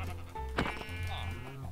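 A sheep in Minecraft gives a short, near bleat over a low steady game background hum.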